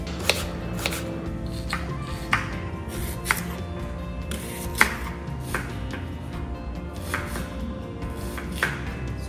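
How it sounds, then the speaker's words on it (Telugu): Onions are chopped with a knife on a board in a home kitchen, three onions prepared for mutton curry: a steady run of light, repeated cutting taps over a low background hum. "మటన్ కర్రీ వండే ముందు ఫస్ట్ మనం ఉల్లిపాయలు కట్ చేసుకుందాం ఫ్రెండ్స్."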